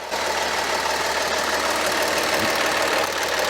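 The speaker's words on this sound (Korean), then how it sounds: "엔진 소리 괜찮습니까? 나쁩니까?" A car engine idles steadily nearby, a smooth continuous rumble with no talking over it, from a car with a gear-shift shock fault when hot.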